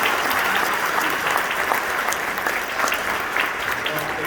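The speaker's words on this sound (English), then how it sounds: "Let's give that another round of applause." Sustained applause from an audience after a school region band performance, steady and dense with a thin crowd murmur, no clear speech over it.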